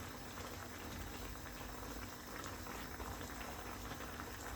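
Vegetables for brown stew fish simmering in a pot, a steady close bubbling and popping with no gaps, fairly quiet and unbroken by voices.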